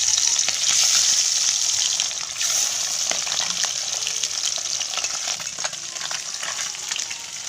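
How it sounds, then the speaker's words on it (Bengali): Pabda fish frying in oil in a wok, a loud, steady sizzle full of fine spitting crackles, strongest at the start and easing slightly as it goes on. "কড়াইতে তেল দিয়ে মাছগুলিকে একে একে ভেজে নেব।"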